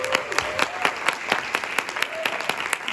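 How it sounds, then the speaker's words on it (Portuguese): A small audience claps for a student presenter at a neuroscience and education talk. The claps are sparse and distinct, each one crisp, with a faint tone and murmuring underneath. "Palmas para a Isabel."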